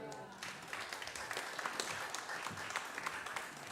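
A church congregation at a Sunday service gives quiet, distant applause, a steady patter of many hands clapping with occasional sharper claps, faint and diffuse throughout.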